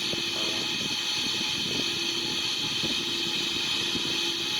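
Steady engine drone of a Boeing 777-300ER cruising level at 35,300 feet in a flight simulator game, a constant loud hum with no talking.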